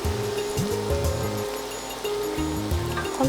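Water is poured into a pan of hilsa and taro curry, a steady rushing splash that runs throughout at close range, with small bubbling surges.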